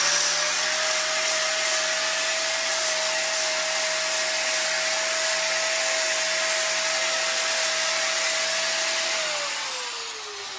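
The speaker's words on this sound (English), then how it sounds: "every single piece of metal that you cut has to be sanded" A power sander grinds burrs off freshly cut metal pieces for a John Deere 4020 tractor seat and console, giving a loud, steady whooshing whine that holds for about nine seconds before winding down.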